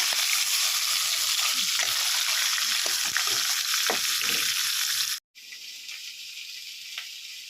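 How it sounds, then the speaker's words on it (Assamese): Fish pieces fry in hot oil in a pan while being stirred, giving a steady close sizzle with soft scraping stirs; after a brief cut the sizzle continues, quieter. "মাছৰ গিটিকা ইলুটি কৰি পেলাই পটাপট এনেকৈ লৰাই লওঁ"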